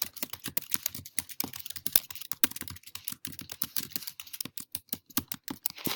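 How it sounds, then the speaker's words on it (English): Rapid, irregular clicking of keys being typed on a keyboard in a classroom setting, soft and close, continuing steadily with brief pauses between bursts. "So once I have typed a little bit,"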